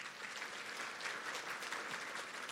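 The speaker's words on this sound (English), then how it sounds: "Our nursing staff and the whole hospital appreciates your applause." An audience at a city State of the City address applauds steadily, a sustained wash of many hands clapping at moderate distance.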